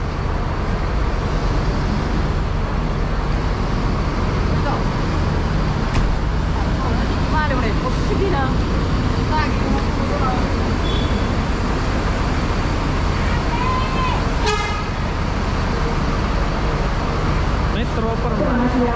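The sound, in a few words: new Manggala Trans bus at Makassar Daya terminal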